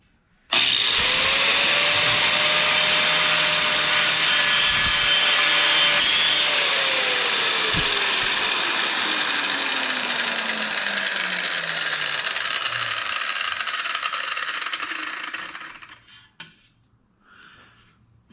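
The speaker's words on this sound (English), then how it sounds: "Let's see how the grinder works." A Porter Cable PC750AG angle grinder spins up and grinds in one long, loud, steady whine with a gritty abrasive hiss, then its pitch drops as it is released and winds down to a stop.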